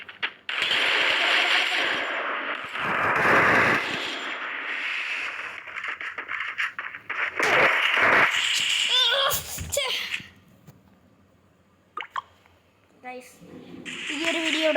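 Gunfire in the mobile shooting game Free Fire comes as short bursts of rapid shots among other game effects, mostly under a player's continuous talk, with brief louder volleys.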